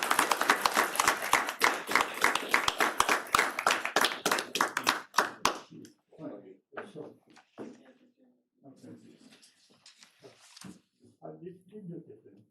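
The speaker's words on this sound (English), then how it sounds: "So let's have a round of applause for these gentlemen" Board of supervisors meeting room breaking into a round of applause for honored gentlemen, several people clapping for about five seconds before it stops and a few quiet voices and rustles follow.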